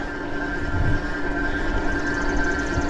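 Electric commuter bike's motor under throttle while climbing a hill, a steady continuous drone with a faint tonal whine over rumbling road and wind noise.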